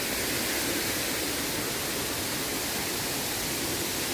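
Kattar waterfall in the forest pours with a loud, steady, broadband roar of rushing water, continuous and close, with no other sounds over it.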